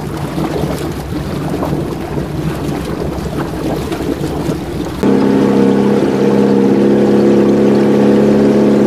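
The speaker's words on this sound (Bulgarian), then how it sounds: "Нека чуем какъв звук издава лодката." A motorboat engine hums steadily through wind and water noise, then switches to a louder, even drone in the second half.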